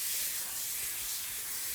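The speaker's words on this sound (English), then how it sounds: "I'm going to give these a little spray with some baking oil" A can of baking oil sprays a steady, close hiss over tortilla pieces ready for the oven. The spray runs continuously and evenly for under two seconds with no talk over it.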